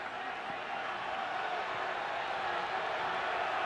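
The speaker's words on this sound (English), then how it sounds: "Crowd just not used to seeing this offense shut down. There's a murmur in this place." Steady, broad wash of stadium crowd murmur at a college football game, Oklahoma at Baylor, heard as a continuous hum of thousands of voices filling the clip at an even level.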